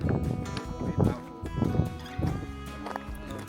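Horses on a summer trail in Iceland neigh and whinny nearby, with hoof clops and shuffling movement as people talk over them.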